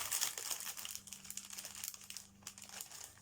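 A small paper pouch sealed with washi tape is opened up close, giving quiet, irregular crinkling and light tearing of paper over a few seconds.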